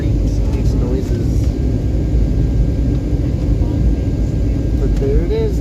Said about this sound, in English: The way just the plane creaks and makes noises.